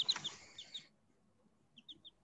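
A chicken clucks in short bursts, a quick cluster of calls followed by a pause and a few more clucks, fairly faint and close in an otherwise quiet indoor classroom setting.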